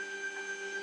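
A CNC router lifts its head while making a Bigfoot sign, giving off a faint, steady electric motor whine with tonal hums held for under a second.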